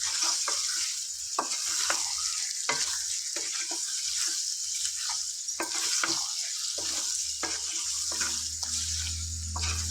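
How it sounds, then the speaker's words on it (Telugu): Chicken liver fries in hot oil with constant crackling and sizzling, while a spoon scrapes and stirs it in repeated strokes throughout, close and fairly loud, with no speech. "ఈ విధంగా చిటపటం అనేదాకా ఈ విధంగా ఫ్రై చేసుకోవాలి"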